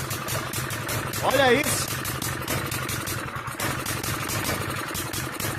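A stationary engine fitted to a bicycle idles steadily with a mid-pitched, even clatter throughout, while someone talks over it close by.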